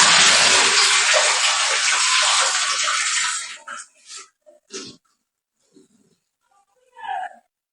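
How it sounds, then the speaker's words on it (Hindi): Shelled peas are lifted out of a bowl of cold water. A loud sloshing, splashing rush of water lasts about three seconds, then gives way to a few brief, quieter drips and clinks. "तो अभी इनको ठंडे पानी से निकालना है।"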